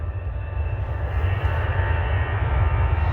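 Airbus A320 with CFM engines throbbing out a low jet-engine buzzsaw drone, steady and fairly loud with a dense rumbling low end, continuous throughout with no talking, heard on a cold 2°C day.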